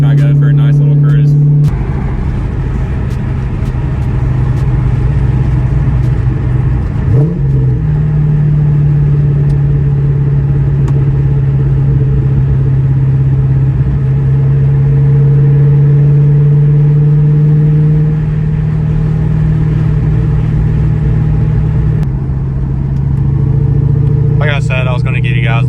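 A New Edge Mustang GT engine drones loudly from inside the car while driving, a steady deep exhaust note that rises in pitch once mid-drive and settles again, with a person talking over it.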